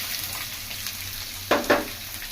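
Chopped onion frying in a pan with chilli and ginger for gobi manchurian, a steady low sizzle with two sharper crackling bursts near the end.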